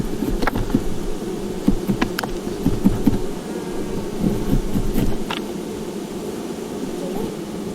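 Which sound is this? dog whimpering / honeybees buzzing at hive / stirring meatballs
honeybees buzzing at hive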